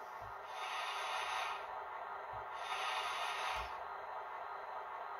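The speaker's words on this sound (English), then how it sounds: "Sanding." Piko H0 scale ICE3 Klimaschuetzer model train sound module playing its sanding effect: a steady hiss rising and falling in three long bursts over a low hum, each burst beginning with a soft thump.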